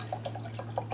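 Hawaiian punch poured into a glass, a quiet run of wet drips and splashes over a low steady hum, faint and close with no talk.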